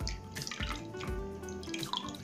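Cold water splashes and drips from a tap as a face is rinsed after a face mask, with a close, steady running flow broken by a few louder splashes.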